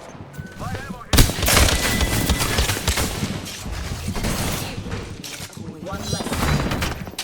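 Dense bursts of rapid gunfire from the video game Apex Legends crackle loudly and nearly continuously, with brief lulls between volleys and a voice speaking briefly over the shooting.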